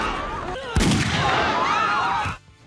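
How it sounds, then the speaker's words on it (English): A gunshot sound effect from the film Titanic cracks loudly and close, followed by a ringing, echoing tail that fades out after about a second and a half. "the same gunshot sound is also used when Murdoch is shooting two passengers"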